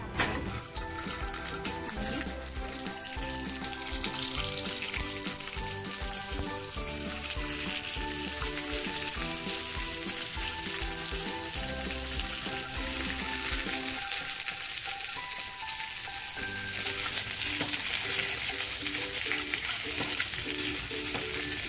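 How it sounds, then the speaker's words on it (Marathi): Eggs fry in a little oil in a pan at home for an egg masala, giving a steady sizzle with stirring and utensil scrapes, close and fairly loud throughout, with a brief quieter dip before the sizzle swells again. "अंडी फ्राय करून घेते बघा, थोडंसं तेल"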